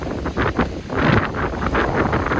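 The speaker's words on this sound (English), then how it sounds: "The wind is incredible. It's blowing everything." Strong gusting wind sweeps across a campsite, buffeting the microphone with loud, continuous roaring that swells and eases without a break.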